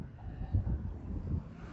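Strong wind on a cold seashore buffets the microphone, a steady low rumble swelling into a few heavier gusts, with no other clear sound over it.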